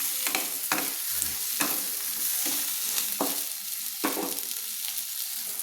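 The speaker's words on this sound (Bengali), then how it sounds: "এবার বেগুনগুলোকে আমি হাফ মিনিট মতো আমি ভেজে নিচ্ছি" Brinjal pieces sizzle steadily in hot oil while a spatula stirs them, giving a loud, continuous fry broken by regular scraping strokes against the pan.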